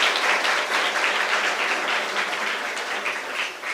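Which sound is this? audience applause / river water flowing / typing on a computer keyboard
audience applause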